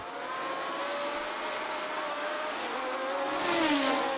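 Several 1970 Formula 1 race cars, among them a Lotus, a Brabham and a Ferrari, roar away at a race start, their engines screaming and rising in pitch together and loud throughout.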